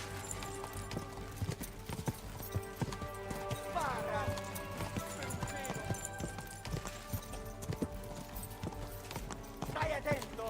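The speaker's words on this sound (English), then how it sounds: "Am I riding a horse after these guys?" Horse hooves galloping in the medieval game Kingdom Come: Deliverance II, a rapid steady clip-clop under shouting voices, with a neigh and game music in the background.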